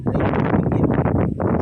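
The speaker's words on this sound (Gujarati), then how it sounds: "પવન થોડો વધારે" A short burst of loud wind buffets the microphone, rumbling and gusting unevenly throughout.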